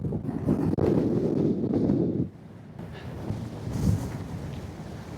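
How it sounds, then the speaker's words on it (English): Strong wind on the summit of Blake Fell in the Lake District batters the microphone, a heavy roaring buffet for about two seconds, then a lighter, gusty rush that swells again, with no one speaking. "It is super windy, so I'm not sure how the microphone's doing with this wind."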